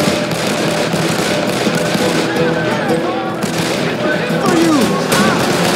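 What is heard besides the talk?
gunfire in video game Call of Juarez: The Cartel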